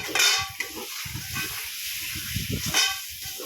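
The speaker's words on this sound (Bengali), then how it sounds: "এই আলুটাকে ভেজে নিয়েছিলাম, এর মধ্যে দিয়ে দিচ্ছি, দিয়ে আবার একটু নেড়ে চেড়ে নেব" Fried potatoes are stirred into a fish curry in a pan, with a low sizzle and hiss under repeated soft scraping and thuds of the spoon against the pan.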